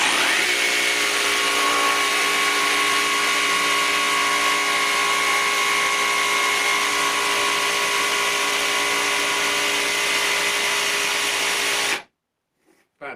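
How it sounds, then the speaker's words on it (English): A CAT 18V brushless jigsaw rip-cuts timber along the grain, a steady loud buzzing whine with a rasping blade chatter that runs continuously, then stops abruptly near the end. "let's try a rip cut right along the grain of this bit of timber."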